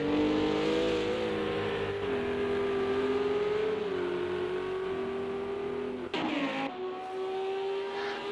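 Lamborghini Huracan GT3 race car in a sim racing league race at Oulton Park International, its engine droning loud and steady with rising and falling pitch, a brief shift or lift near the end before it pulls again.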